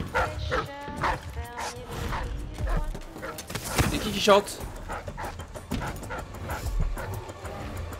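Dogs in the video game Dishonored 2 bark, yip and pant in repeated bursts close by, while a player talks over the game sounds.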